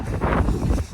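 Cold wind buffets the microphone at a dam on a rainy, chilly day, a loud, continuous low rumble with no pause across the whole second.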